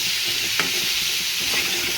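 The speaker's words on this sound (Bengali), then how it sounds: "এইটাকে এবার ভালো করে নেড়ে চেড়ে নিয়ে" Potato and pumpkin fry in oil in a pan, a steady close sizzle with occasional soft stirring scrapes and clicks of the spoon.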